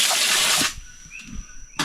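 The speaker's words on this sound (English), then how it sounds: "put some water in there." Water gushing and splashing as it is poured into a pan while smoking pork, loud and close, stopping abruptly partway through and leaving a quiet background with faint small knocks.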